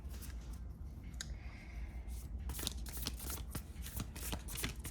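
A Nightmare Before Christmas tarot deck being shuffled, with steady papery riffles and card slaps that grow busier in the second half, close and moderately loud with no talking.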